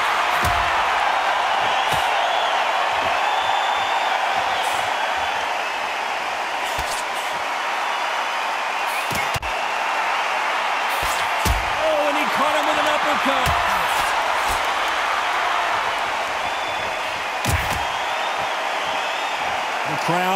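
A packed boxing-arena crowd in the game Undisputed roars steadily while occasional thudding punches echo through the hall, with a commentator talking over the din.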